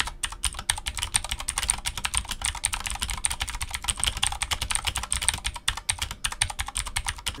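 Steady, fast typing on a Redragon tenkeyless mechanical keyboard with Redragon Blue switches, ABS plastic frame and steel plate: dense, crisp clicky keystrokes continuing throughout, close and clear with no talk.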